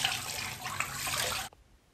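Running water gushes steadily from a tap into a bath for about a second and a half, loud and close, then cuts off abruptly.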